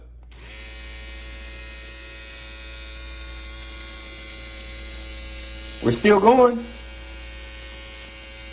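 A steady Stylecraft electric shaver buzz with a constant high whine runs throughout, briefly joined by a short burst of a voice near the end.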